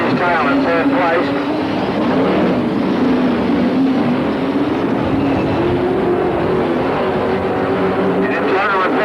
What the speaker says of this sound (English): John Pine's half a lap away from Owen Johnson now in car 6 as he hurries round with Peter Curran on his tail in third place